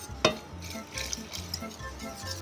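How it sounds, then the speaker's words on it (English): Whisk working a thick, velvety mixture around a cooking pot, soft scraping and stirring strokes with light metal clicks against the pot, close and fairly quiet. "Whisk really well."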